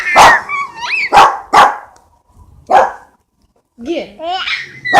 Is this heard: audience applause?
no